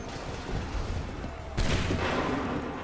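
Musket volley in Assassin's Creed 3 crashes out as one sharp, loud collective blast partway through. Battlefield noise rumbles before it, and a ringing, noisy aftermath follows.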